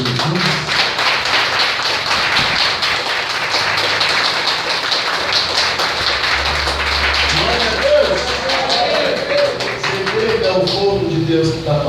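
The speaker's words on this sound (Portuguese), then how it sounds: "Vamos aplaudir o Jesus." A church congregation applauding, a dense, sustained patter of many hands clapping that fills the room steadily, with voices and some music mixed underneath.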